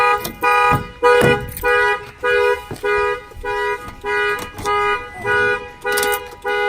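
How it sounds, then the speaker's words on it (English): A loud Viper car alarm on a truck blares in repeated, evenly spaced electronic bursts, close and insistent, with a couple of clunks near the start. "Somebody opens the door, the alarm will trip"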